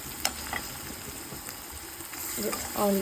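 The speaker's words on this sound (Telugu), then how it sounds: "ఆయిల్లో కొంచెం గార్లిక్ పేస్ట్ వేసితే ఫ్లేవర్ బాగుంటుంది." Garlic paste frying in hot oil for a chicken curry gives a steady, close sizzle with soft crackles and a few light pops, swelling slightly toward the end.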